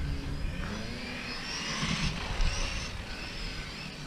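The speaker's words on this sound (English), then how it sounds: "Mia, who's gonna get her blower from the car and blow off the track for me" A leaf blower roars in a broad, breathy whoosh while blowing dust off a dirty outdoor track, the sound steady and fairly loud with slight surges in force.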